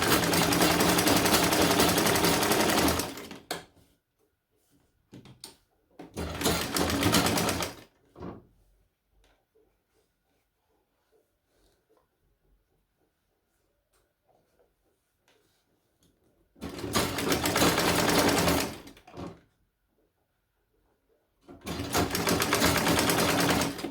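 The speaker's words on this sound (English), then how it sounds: "I'm stopping at this place that I marked, and then I backstitch to lock it" Sewing machine stitching a seam on a baby's A-line dress, two short close bursts, a long pause with faint handling, then two more bursts as the seam is finished and backstitched.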